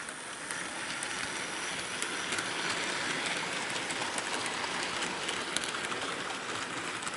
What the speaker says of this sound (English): now let's get this train properly out of the siding